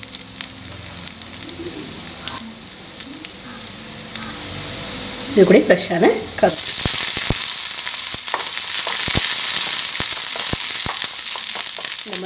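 Dried red chili and spices for tempering hit hot oil for a cucumber yogurt pachadi, a loud, steady crackling sizzle that bursts in after a few soft clinks and a brief spoken remark, then keeps popping close up.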